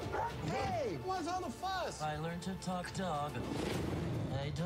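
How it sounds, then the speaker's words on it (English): A dog barks and yips in a science-fiction film trailer, short barks and whimpers set among steady talk from several voices. "Dog."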